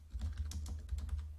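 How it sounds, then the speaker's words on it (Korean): Keyboard shortcut keys pressed on a computer keyboard while building a quote form in Excel, a quick run of close, crisp clicks and taps at an even pace. "지금 Shift 누르고 방향키 오른쪽 버튼 해가지고 Alt 1 누른 거죠."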